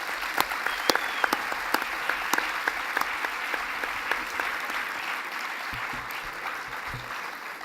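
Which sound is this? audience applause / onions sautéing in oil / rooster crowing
audience applause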